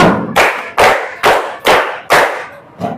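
A classroom of students claps a rhythmic "tepuk ding dar" pattern, six loud, sharp group claps evenly spaced with short pauses, close and without talk.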